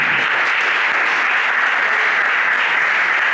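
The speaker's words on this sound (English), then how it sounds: "you should give her a very, very big clap" An audience applauds at the inauguration of a new abacus learning centre, a loud, close, sustained round of clapping that stays dense and unbroken from start to finish.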